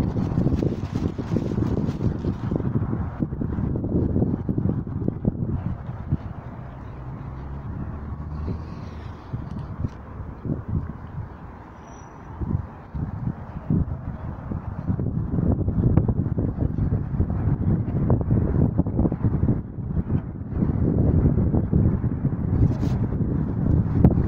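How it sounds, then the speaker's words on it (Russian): Strong wind off the Neva River in Saint Petersburg's Bolshaya Okhta buffets the microphone in a steady, low rumbling roar with surging gusts and no voices. "Чувствуется ветер с Невы."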